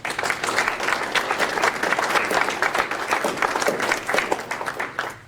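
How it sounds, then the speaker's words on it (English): An audience at a Boise State ROTC commissioning ceremony gives a quick round of applause, dense continuous clapping from a crowd that holds steady before tapering off at the end. "just give them a quick round of applause"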